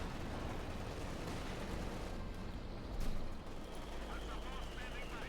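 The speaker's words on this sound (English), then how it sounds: "German mortar firing down the other mortar" Mortar fire in Company of Heroes 2, a German mortar shelling an opposing mortar, heard as a dense, continuous wash of distant battlefield gunfire and explosions with one louder thump near the middle.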